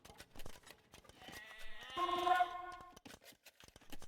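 Sheep bleating in the video game Age of Empires, a harmonic bleat rising over a soft clicking game soundscape for about a second and a half, then fading.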